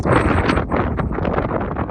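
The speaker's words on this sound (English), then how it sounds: "Super windy." Strong wind gusts at about 10,900 feet on the Beartooth Pass mountain road buffet the microphone, making a loud, rough, continuous roar in a short burst.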